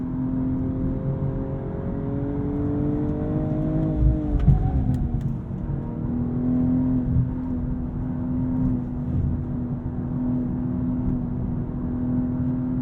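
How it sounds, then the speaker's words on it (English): BMW M240i xDrive Coupe engine pulling hard out of corners, a steady mid-loud engine tone rising, dropping sharply at a shift, then building again under constant road and cabin rumble. "There's so much thrust out of every corner."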